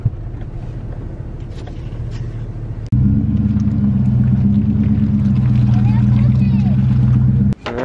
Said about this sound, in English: We're gonna drive right through the water right here.